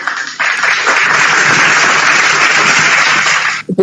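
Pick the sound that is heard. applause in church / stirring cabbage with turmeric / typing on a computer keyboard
applause in church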